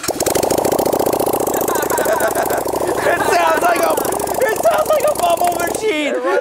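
A fuel-injected V-twin motorcycle engine from an inexpensive bike cranks and fires up, then runs with a rapid, rattling, pulsing chug close by, with voices talking over it near the end.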